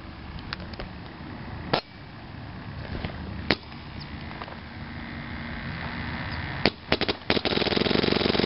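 A PM7 airsoft gun fitted with a Tech-T L7 bolt, Yakuza critical and CPASA fires on full auto. Scattered sharp clicks and pops come first, then a loud, rapid sustained burst at the end.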